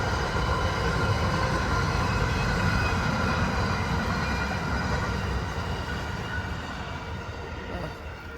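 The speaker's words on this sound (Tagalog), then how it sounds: "Oh, ang haba ng train guys" A long train passing fields on a frosty morning, a loud steady rumble and rattle of wheels and wagons filling the whole span, fading slightly toward the end.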